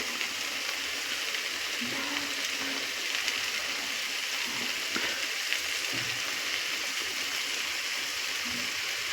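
A spoonful of ghee sizzles in a pan of cabbage ghonto cooked with katla fish head, giving a steady, close, crackling hiss with no pauses and no talk.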